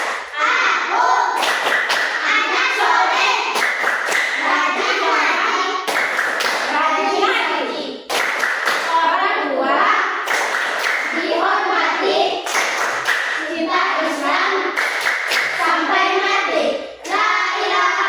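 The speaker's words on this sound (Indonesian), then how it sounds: "Tepuk anak soleh." Children chant the Indonesian classroom clapping rhyme "tepuk anak soleh", their voices loud and close in unison, punctuated by regular rhythmic hand claps throughout, with brief pauses between phrases.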